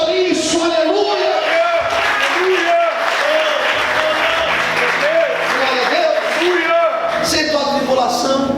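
Applause from a large church congregation fills the room, steady and loud throughout, with music and voices carrying underneath.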